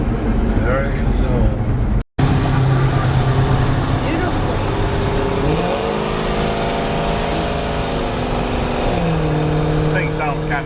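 Engine of a 1971 Chevrolet C10 truck runs loud and close, idling roughly and then revving up and settling in smooth swells; a brief dropout interrupts early on, and a voice may be faintly present.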